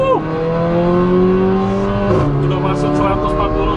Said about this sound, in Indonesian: Oke, kita beri lagi sekali lagi, ini dari start gigi 2